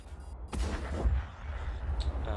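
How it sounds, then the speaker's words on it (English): Tank gun shells fired at an IS-3 in World of Tanks with a TVP 50/51, heavy booming shots that stand out over a low engine rumble, with a sharp report near the start and further impacts after. "So Floppy put another 4 rounds into that IS-3 over there"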